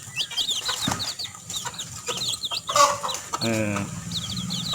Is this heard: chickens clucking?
yes